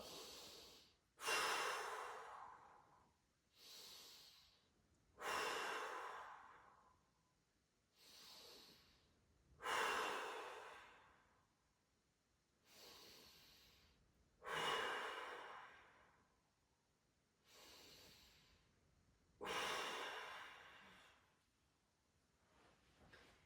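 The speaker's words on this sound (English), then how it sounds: "Head face down, 5 big breaths." Slow, deep breaths taken face down on the floor during a prone decompression exercise, about five long inhale-exhale cycles with soft hissing airflow, close and unhurried, with quiet gaps between breaths.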